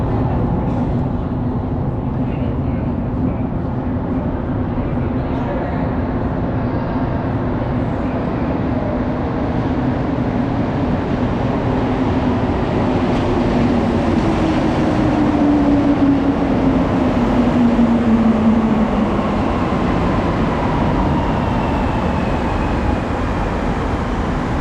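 A Montreal subway metro train in motion, with a steady loud rumble of wheels and motor throughout and a rising then falling whine in the middle as the car speeds up and slows.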